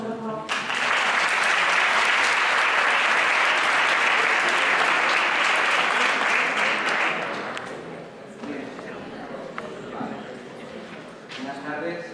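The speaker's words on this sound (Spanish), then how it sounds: "Un aplauso, por favor." Loud applause from a crowd at a Spanish conference on security forces, sustained clapping for several seconds before fading out into scattered claps and room noise.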